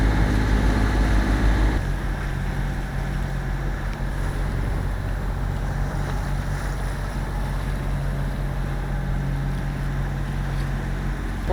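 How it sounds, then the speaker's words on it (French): A sailboat engine idles at low revs at sea, a steady low rumble beneath wind and water noise, loud and continuous throughout. "j'ai fait le choix de garder un petit fond de moteur"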